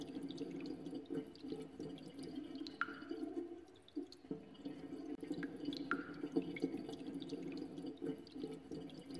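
Running, dripping water in the video game Reversion: a steady low trickle of flowing water with individual drips plinking through it at irregular intervals, close and fairly quiet, with no voices.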